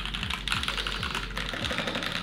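Fast, steady typing on a custom mechanical keyboard, close and crisp with rapid overlapping clacks and deeper thocky bottom-outs, no voices.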